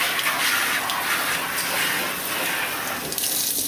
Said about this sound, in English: So in addition to watering the berries, you also will need to water the newspaper.